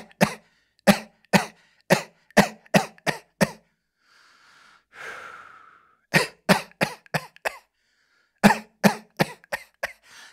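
Repeated sharp coughs in quick clusters during a qigong kidney exercise, close and loud, with a short breathy pause between groups and no speech.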